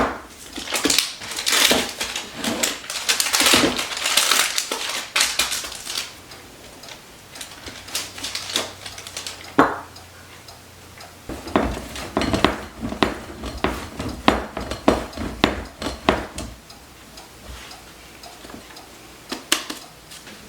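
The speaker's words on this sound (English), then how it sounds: "then we're going to grate in 8 tablespoons or 1 stick of cold butter" Stick of cold butter rasped on a grater into a bowl of flour, sugar and salt, in bursts of quick scraping strokes with clinks of metal, a pause midway, then more rapid grating close by.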